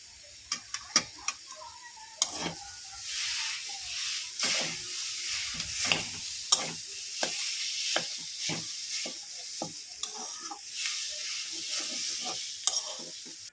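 Four grated potatoes go into a frying pan of oil with vegetables and get stirred. A steady sizzle runs throughout, and a spatula scrapes and taps the pan again and again, close up, with no voices.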